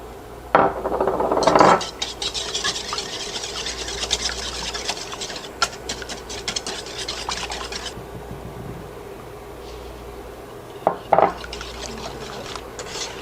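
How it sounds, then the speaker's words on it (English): Quick scraping and rasping of a whisk beating egg with sugar in a bowl, steady and continuous with brief louder clatters at the start and near the end. "While my milk is boiling, I'm going to whisk the egg with the sugar."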